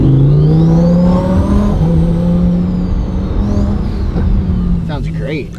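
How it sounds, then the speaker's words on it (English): A modified stage one turbocharged car engine with a jet fighter compressor housing and a 6466 turbo revs loudly and steadily up close, its deep drone rising and falling, with a whistling turbo whine and a brief chirp near the end. "He wanted just a stage one car that sounded phenomenal"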